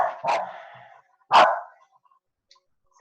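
A pet dog barks twice loudly and close by, separated by a short pause, with a brief start of another bark at the very end in an otherwise quiet indoor space.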